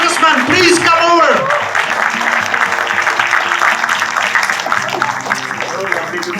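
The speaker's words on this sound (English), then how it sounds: "Can you give them a round of applause?" Applause from a crowd at a film premiere event, a continuous wash of clapping running throughout while people talk and cheer over it, loud and close.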